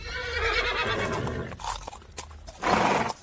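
A horse whinnies loudly and neighs again near the end, with a clip-clop of hooves between the calls, close and clear, used as a sound effect in a historical tale.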